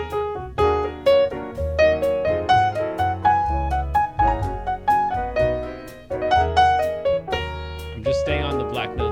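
Solo piano improvises quickly on the black keys in a pentatonic scale, a busy run of bright notes over low bass chords, loud and close with no voices.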